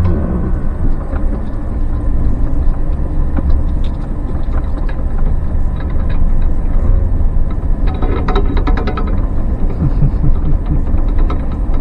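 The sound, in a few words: truck driving along a narrow trail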